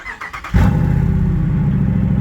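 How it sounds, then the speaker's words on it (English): A RAM 1500 Hemi pickup with its exhaust cutout open cold-starts: a brief cranking whir, then the engine catches with a loud, deep roar that settles into a heavy, rumbling high idle. "We're gonna fire it up for a cold start,"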